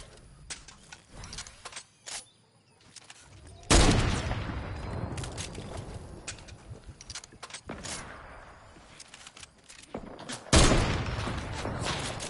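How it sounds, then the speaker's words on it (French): Bursts of automatic gunfire in a Fortnite match, sharp rapid volleys from several directions with louder close bursts and quieter gaps between, no talking in the clip. "Au secours, on me tire sur deux flancs."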